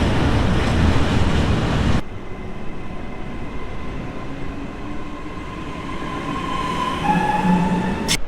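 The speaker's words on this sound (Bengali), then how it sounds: "রেলওয়ে স্টেশনে এদিকে দেখতে পাচ্ছেন ট্রেন" A train rumbles loudly, then settles into a quieter hum as metallic wheel squeals rise and fade at a railway station in Genoa, Italy.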